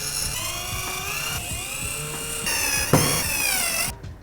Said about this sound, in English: you're gonna grab the long screws and screw each of the holes down